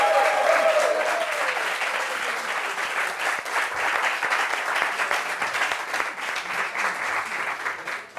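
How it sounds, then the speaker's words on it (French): Loud, sustained applause from a studio audience welcoming a guest on a talk show, dense clapping at an even level for about eight seconds, with faint voices mixed in. "On applaudit pour lui, s'il vous plaît."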